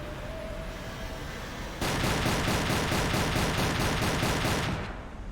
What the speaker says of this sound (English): And it's not even a deck gun, it's an anti-air gun.